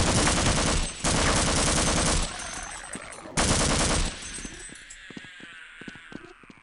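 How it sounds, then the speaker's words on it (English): Automatic turret in the video game Half-Life firing rapid bursts, loud staccato gunfire in two long volleys, then trailing off into scattered clinks and faint impacts. "Oh, there's one of those turrets things again."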